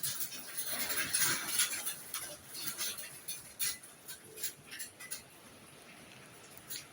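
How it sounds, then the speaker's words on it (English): Rain mixed with hail falls outside at night during a winter storm in coastal Portugal, a dense irregular patter of small hard taps heard from indoors, busy at first and then thinning. "It's rain and ice. It's hail."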